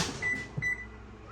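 A kitchen oven timer, set while baking buttermilk biscuits, gives two short, thin electronic beeps close by in a quiet room with faint background noise.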